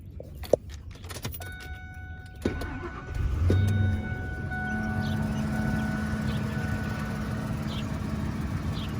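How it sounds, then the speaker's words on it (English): A Ford F150 pickup truck: keys jangle and a few clicks, then the engine cranks, catches and settles into a steady, close idle that hums on alone for several seconds. "the engine sounds amazing"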